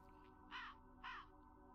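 Two harsh crow caws from the Tormentum video game, spaced about half a second apart and fairly close, over a steady low ambient hum.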